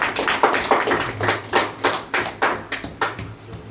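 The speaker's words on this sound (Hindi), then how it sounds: "एक अच्छा ताली बजा दीजिए प्रभु जी को।" A small congregation at a Christian sermon gives a round of applause, with individual claps standing out as separate, slightly uneven bursts at a brisk rhythm, close by and fading near the end.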